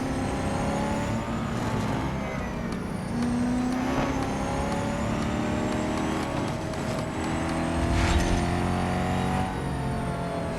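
Race car engine in the Real Racing 3 video game sustains a loud, steady drone with rising and shifting pitch as one car overtakes another, tire and wind noise layered throughout and a brief surge near the end.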